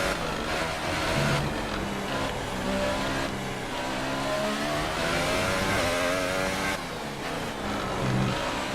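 Williams Formula 1 car in F1 2018, its engine revving hard and continuously at close range, pitch rising and falling with gear changes and throttle.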